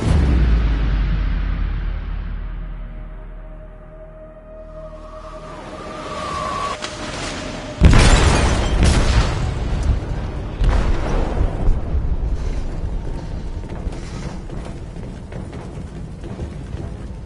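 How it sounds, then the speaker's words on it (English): An explosive detonates in a ship's hold in Detroit: Become Human: a sudden heavy blast bursts in after a low rumbling lead-in, then debris crashes and rumbles on loudly, with further rolling booms fading over several seconds. "They detonated an explosive in the hold."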